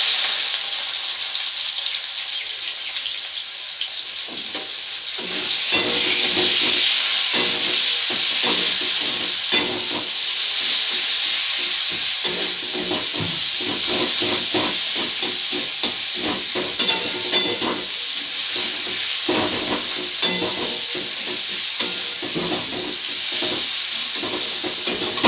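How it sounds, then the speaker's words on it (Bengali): Chopped onions fry in hot oil with a spice tempering for a Bengali prawn and taro-stem dish, a continuous loud sizzle with intermittent scraping and stirring strokes throughout. "পেঁয়াজটাকে হালকা লাল করে ভেজে নেব প্রথমে।"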